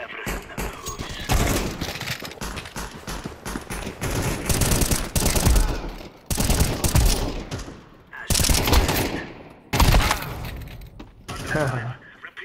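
Sustained automatic gunfire from a Counter-Strike 2 match on a workshop map comes in long loud bursts with brief gaps between them, close and dense, and a voice is faintly present underneath.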